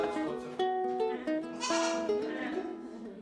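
Goats bleat repeatedly on a mountain farm where they take part in goat yoga, several wavering calls overlapping at close range, loud and clear with no talk.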